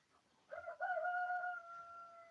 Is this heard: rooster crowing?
yes